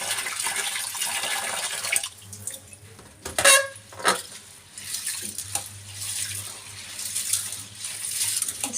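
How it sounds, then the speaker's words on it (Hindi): Wheat and chana dal get rubbed and rinsed by hand in a vessel of water, producing intermittent close splashes and sloshing swirls, quiet overall with a few sharper splashes. "इस तरह से मल के धो लेंगे पहले।"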